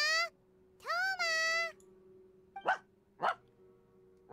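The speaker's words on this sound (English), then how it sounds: "That's literally just a dog barking." A dog in the Genshin Impact video game lets out a whining, yelping call, then two short, sharp barks a moment apart over a faint, steady game hum.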